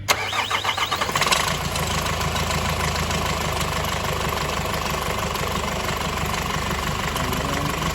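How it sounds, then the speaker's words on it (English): A Nissan X-Trail with a boost fault cranks briefly with rapid chugging, catches, and settles into a steady, loud idle that runs on evenly. "I'll just start the engine now"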